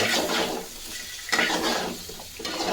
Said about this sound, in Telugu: మీరు ఇలా గెరెట్స్తో తిప్పుతూనే ఉండాలి ఇట్లా